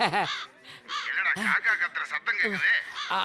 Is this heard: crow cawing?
yes